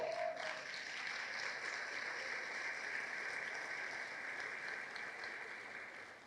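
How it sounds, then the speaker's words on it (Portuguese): At a sermon-style talk, a small audience gives faint, thin applause, a quiet, steady patter of clapping heard from a distance that continues for several seconds. "As palmas foram um pouco fracas"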